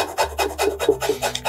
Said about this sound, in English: Just grate some ginger.